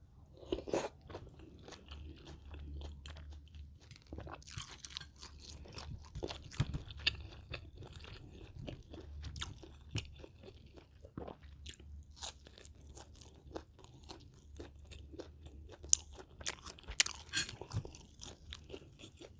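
Crunchy fried pork is chewed close up in repeated sharp crunches and bites over steady mouth noise, continuing in an irregular rhythm with no talk.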